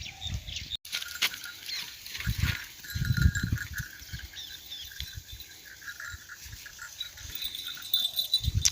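Goats on a village farm field in Madhya Pradesh, India, bleat and shuffle nearby in short bursts over steady outdoor ambience, with birds chirping faintly in the background.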